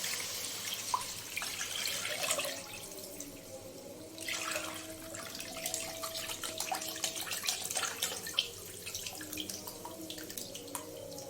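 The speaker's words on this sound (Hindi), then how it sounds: "तो अब हमने इसमें जो बेसन घोल के रखा था कड़ी, उसको डाल देते हैं" Gram flour kadhi batter poured through a sieve into a cooking pot, a steady liquid pouring and trickling sound with faint drips and light clinks, close and continuous with no talk.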